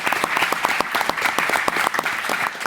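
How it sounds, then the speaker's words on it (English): Audience applause for a panel of speakers at a talk on remote working, steady dense clapping from a crowd throughout, close and fairly loud with no voices over it. "Let's give a round of applause for our awesome panelists."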